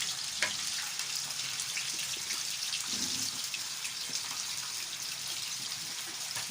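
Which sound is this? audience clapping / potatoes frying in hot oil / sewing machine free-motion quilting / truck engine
potatoes frying in hot oil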